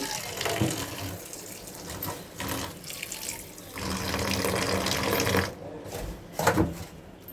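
A handful of food rinsed under running water in a sink, a steady splashing tap flow with brief louder swishes and sloshes as it is rubbed and washed, close by.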